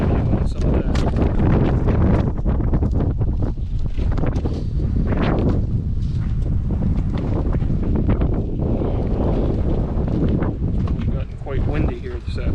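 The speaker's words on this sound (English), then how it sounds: "Windy here this afternoon." Steady wind roars across an open apiary in the afternoon, gusting against the microphone with a constant broadband rush throughout, no clear talk over it.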